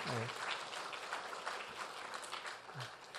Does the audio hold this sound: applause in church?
yes